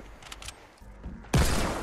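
Fortnite gunfire: after quieter game sounds, a loud, dense burst of rapid shots starts suddenly and keeps going steadily to the end.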